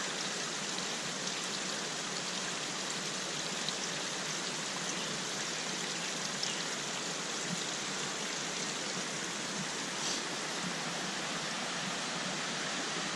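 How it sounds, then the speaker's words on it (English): Steady, close water noise fills the whole stretch, a continuous wet hiss like dripping and trickling water, with no voices. "dripping water right here."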